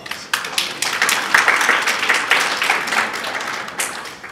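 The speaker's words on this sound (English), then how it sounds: "give them a huge round of applause" A sustained round of audience applause rising quickly after a brief quiet start, many hands clapping in a dense, loud burst that tapers slightly toward the end.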